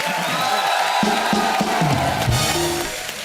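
A studio audience at a Hindi comedy talk show roars with cheering and whooping, a loud, continuous crowd reaction with raised voices that eases slightly toward the end.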